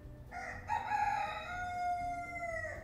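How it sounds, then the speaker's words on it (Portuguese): A rooster crows at dawn: one long, clear cock-a-doodle-doo that rises, holds and tails off, heard fairly close against a quiet background. "O galo canta indicando o amanhecer"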